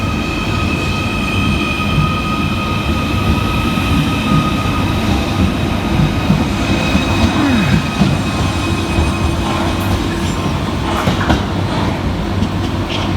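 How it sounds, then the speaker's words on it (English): A Merseyrail class 777 electric train departs on the Liverpool Central to Headbolt Lane service, a steady loud rumble of wheels and traction hum with a faint squeal, close by and continuous with no voices. "we see the departure of 777 146, working the 1500 Merseyrail electric service from Liverpool Central through to Headbolt Lane"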